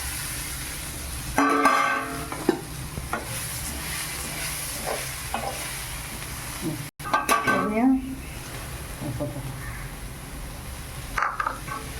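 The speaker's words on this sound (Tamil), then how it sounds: "போட்டு எல்லாம் சேர்த்து ஒன்றா கலந்துடலாம்" Puffed rice being stirred and mixed with masala in a pan for masala pori, with scraping and clattering utensil sounds plus light sizzling; a voice speaks briefly near the start and again partway through.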